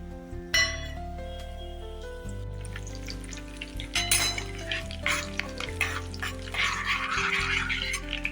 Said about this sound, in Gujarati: તેલ ગરમ થઈ ગયું છે હવે આપણે આ રીતે વઘાર કરી લઈશું